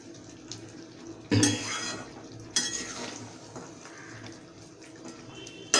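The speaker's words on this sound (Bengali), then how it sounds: "কষা মাংস তো সমানে এরকমভাবে নাড়তে হবে" A spatula stirring chicken kosha, a Bengali braised chicken dish, in a frying pan: scraping and clattering against the metal with a few louder knocks over a low sizzle, close and steady, with no talking.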